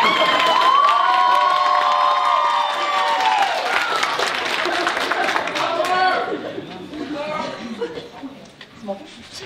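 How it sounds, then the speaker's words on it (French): Cheering and clapping rise from a crowd at a Rubikcon 2020 cosplay masquerade competition, loud at first with a voice over it, then thinning into scattered chatter and shouts as the noise fades. "Ah, on applaudit après, mais on applaudit après la fin. C'est toujours bon d'applaudir"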